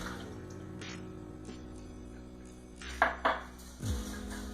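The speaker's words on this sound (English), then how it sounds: "We start out with 2 cups of water with a big pot of apples and pour it into the pot." Water poured from a two-cup measure into a big pot of apples for homemade applesauce, heard as a few short splashing bursts near the end over a low kitchen hum, close and fairly loud.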